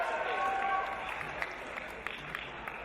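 A wrestling arena crowd cheers and claps during a Pentagon Jr versus Pete Dunne match, a fairly distant roar of noise with scattered sharp claps, while a commentator's voice talks over it.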